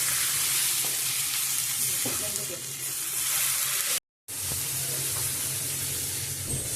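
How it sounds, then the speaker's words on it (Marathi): Onion and tomato frying in a hot pan, a steady close sizzle and hiss throughout with faint stirring, broken by a brief dropout, with no talk. "तर टोमॅटो आपलं आता भाजलेलो आहे."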